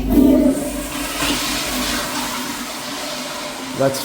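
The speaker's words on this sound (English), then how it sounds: "1 or 2 more flushes will do it." A toilet flushing up close and loud, a rushing gurgle of water that drains steadily over several seconds, in a toilet with a slow drain that is close to clogging.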